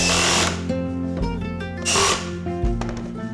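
A power drill drives screws into the sides of a wooden pollinator house in loud whirring bursts, the motor revving up and winding down several times in close succession.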